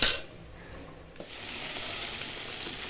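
A pan of curry with curry leaves and garlic bubbles and sizzles steadily, a soft hissing simmer with a faint clink of a utensil, close and continuous.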